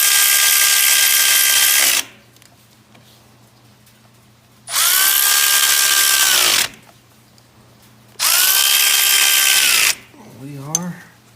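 A power tool working on an ATV in below-30-degree cold whirs loudly in three separate bursts of about two seconds each, with quiet gaps between, followed by a short voice at the end.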